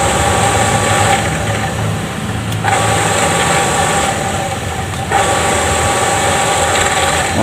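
A Shimizu electric water pump motor runs after being cleaned, a loud steady mechanical hum with a tonal whine that dips briefly a couple of times before settling back to a constant drone.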